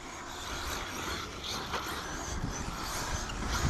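RC car driving on a race track, a faint, steady motor whir with slight rises and small bumps throughout, no talking.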